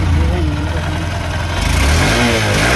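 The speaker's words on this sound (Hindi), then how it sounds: "और ये है इंजन का साउंड।" A steady, close idle from the 2024 Honda CB Shine 125 OBD-2's 125 cc single-cylinder engine and exhaust, ending in a quick throttle blip that swells the rumble higher.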